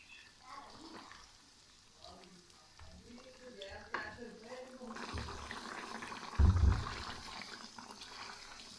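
Chicken frying and sizzling in a pan for white korma, with tomatoes, a steady crackle that swells louder near the end as the food is stirred, with faint talk at moments.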